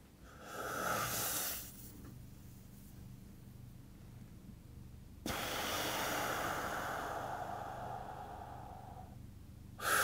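During a Samsung Watch Active stress test, a person breathes in slow, audible waves close to the microphone, drawing long breaths in and letting them out in soft hissing rushes, with no talking.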